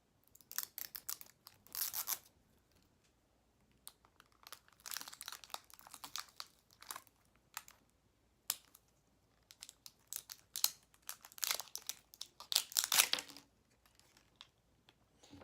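Plastic packaging for LOL doll accessories being unwrapped, sharp irregular bursts of crinkling and tearing that come in clusters separated by short quiet gaps, close and alone.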